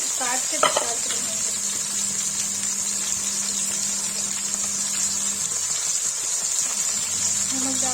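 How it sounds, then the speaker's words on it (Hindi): Mushrooms fry in a pan with a continuous, fairly loud hissing sizzle, a brief utensil clatter near the start and a low steady hum underneath. "फ्राई गाइस देखिए मशरूम फ्राई हो गया"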